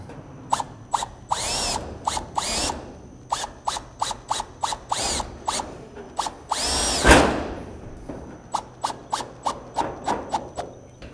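Power drill driving a 65mm screw through metal Klip-Lok roofing into timber, with repeated short bursts of whirring and ratcheting clicks and a louder sustained grind near the middle, close and loud.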